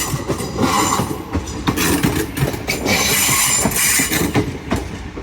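Class 333 electric unit 333 009 pulls away from Doncaster on a Leeds service, a steady loud rumble of wheels on rails with rhythmic clicks and squeals, continuous and close throughout.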